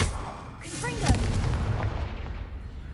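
A Confringo blasting spell exploding in the video game Hogwarts Legacy, a single booming burst about a second in, with rumbling debris and game sounds around it.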